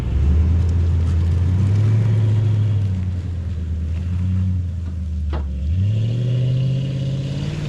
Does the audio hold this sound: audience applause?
no